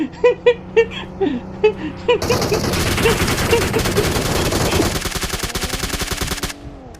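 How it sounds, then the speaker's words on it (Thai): Rapid automatic gunfire in PUBG Mobile, a sustained burst of loud, close shots fired in quick succession after a few scattered sharp sounds, with brief talk and other game noise underneath. "ยิงมันก่อน"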